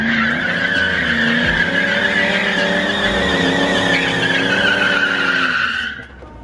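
A 2003 Ford Mustang Mach 1 pulls away with its tires squealing. The engine roars loud and steady for about six seconds, then the sound cuts off sharply.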